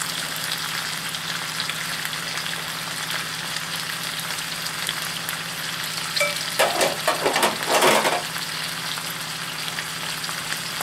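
Cabbage, onions and carrots fry in bacon dripping with a steady close sizzle, then a burst of scraping, clattering stirring near the end before the sizzle settles again. No one speaks.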